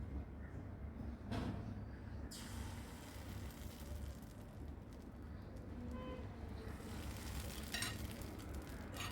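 Appam batter fries in a pan with a soft, continuous sizzle, fairly faint and steady, with a couple of brief clatters from the pan.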